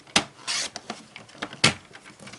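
A trimmer blade slices scrap patterned paper in brief, quiet strokes with two sharper snaps of the cutter, along with soft rubbing and sliding of paper, close up and with no talk.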